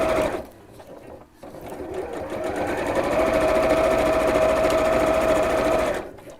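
A sewing machine stitching two fabric pieces onto a zip, starting with short bursts and then running in a steady, loud, continuous whir for several seconds before stopping, with no talking.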